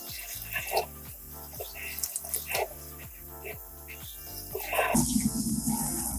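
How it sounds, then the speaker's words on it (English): A wig is rinsed with cool water under a running tap in a sink: a continuous stream spatters and shifts in tone, growing louder and broader near the end. "now I'm just going to rinse it out with cool water to make sure all of that shampoo is out of there"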